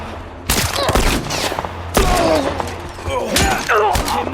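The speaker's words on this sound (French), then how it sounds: "on nous tire de partout" Heavy gunfire erupts from several directions in a French-language shooter video game, with dense bursts of shots and thuds in repeated volleys, loud and close, under excited talk.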